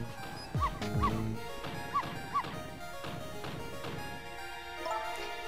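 Pomeranian named Missile barking in Ghost Trick: Phantom Detective, a handful of short yappy barks in an uneven rhythm over a steady game backdrop, fairly close and moderately loud.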